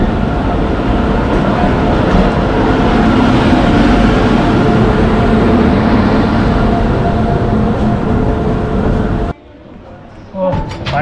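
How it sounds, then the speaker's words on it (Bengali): A train pulls away from a station platform, its loud continuous rumble and rattle filling the air before cutting off abruptly near the end, with a few faint sounds after. "ট্রেন ছেড়ে দিল"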